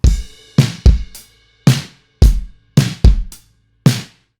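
A polished drum groove of punchy kick and snare hits with cymbals, about eight strikes, loud and full with a tight, processed sound.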